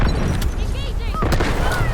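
In the Delta Force video game, rapid gunfire and explosions crackle in dense, overlapping bursts through a short battlefield stretch, with someone talking over the combat.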